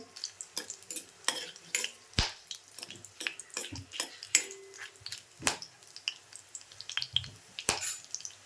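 Cinnamon and star anise sautéing in ghee make a soft sizzle beneath frequent spoon clinks and scrapes against the pan, moderately close and without speech.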